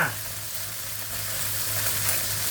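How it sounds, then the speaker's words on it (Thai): Noodles frying in hot oil until golden for a Hong Kong-style rad na dish: a steady, loud sizzle that holds without a break, with a faint low hum underneath. "ทอดให้เหลืองเลยจ้า"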